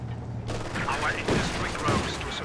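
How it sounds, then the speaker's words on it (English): Machine gun fire in a World War II strategy video game: a dense, continuous rattle of rapid shots with battle noise filling the whole stretch, loud and close. "Double machine guns here for Jibber, really boxing out"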